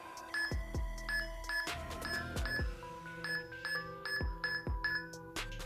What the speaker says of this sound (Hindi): तो जैसे आप कैमरे के पास जाते हैं तो ये बीप की साउंड आपको सुनाई देती है।